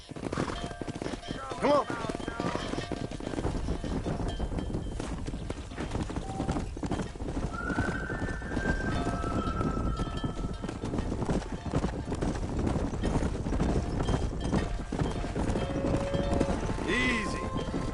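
Horse hooves clip-clop at a steady gallop in Red Dead Redemption while cattle are driven, with an occasional whinny and a voice calling out over the continuous hoofbeats and ambient game sound.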